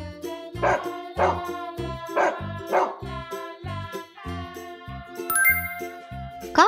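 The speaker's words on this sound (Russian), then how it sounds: "Собака." A cartoon dog barks in short bursts, about four sharp woofs in a row, over a playful children's music backing with chimes near the end.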